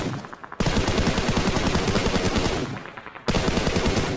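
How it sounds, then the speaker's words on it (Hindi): Sustained automatic gunfire from a firefight in the PUBG Mobile video game, rattling in dense rapid bursts with a short pause before a second burst, loud and continuous. "ये आप साउंड से सुन सकते हो, वहाँ पे फायरिंग हो रही है।"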